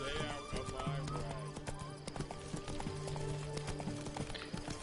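Hooves of Roach, a horse in The Witcher video game, clip-clop in a steady walking rhythm close by, with someone talking over the steps and a sustained background tone.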